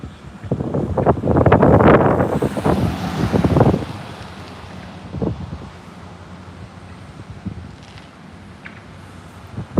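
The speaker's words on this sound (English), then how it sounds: "We got a little wind right now" Wind buffets the microphone outdoors at the SpaceX Starbase launch site in Boca Chica, Texas, loud rumbling gusts in the first four seconds, then easing to a softer, steady blow with occasional smaller gusts.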